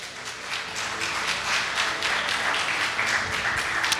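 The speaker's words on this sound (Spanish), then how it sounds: "Fuerte aplauso al Señor." Church congregation at a Spanish-language worship service applauds in a loud, continuous wash of clapping, dense and steady throughout with a faint murmur of voices beneath.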